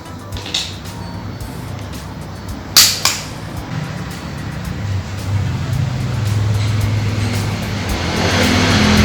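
Steady roar of road traffic with cars passing close by, a brief sharp clack early on and the noise swelling louder toward the end.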